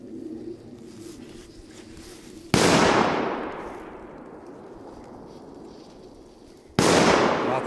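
Two sharp, loud firecracker blasts go off several seconds apart in wet weather on a market square in the Czech Republic, each followed by a long echoing decay, with quiet ambient noise in between.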